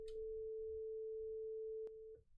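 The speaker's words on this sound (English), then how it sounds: "Nope, there's your sine wave." A steady pure sine test tone sounds alone at a constant pitch for about two seconds, clean and continuous, with a brief click near the end before it cuts off.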